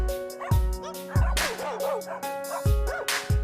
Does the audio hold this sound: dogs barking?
yes